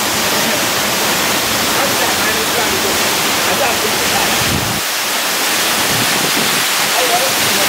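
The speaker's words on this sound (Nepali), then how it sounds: "नमस्ते झरना हो" The Namaste waterfall roars with a dense, continuous rush of falling water, loud and close, steady throughout with no pauses.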